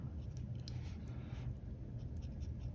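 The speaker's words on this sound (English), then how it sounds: "let's first do a writing sample with the Jinhao extra fine nib" A Jinhao 80 fountain pen with an extra fine nib, dipped in Diamine Cashmere Rose ink, scratches faintly across paper in short close strokes, with a quiet low background hum.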